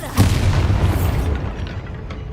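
Bombarda explosion spell in the video game Hogwarts Legacy, a single deep booming blast with a rumbling tail that fades over about two seconds, loud and alone.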